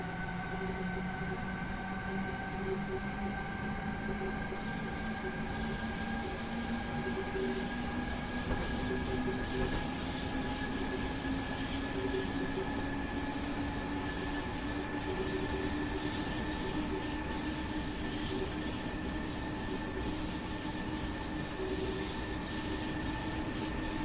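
An ICE BR426 electric train in Train Simulator 2015 on the Munich–Augsburg line runs steadily for the whole stretch. A rising motor whine sits over constant rail rumble and a high metallic wheel squeal, with no voices.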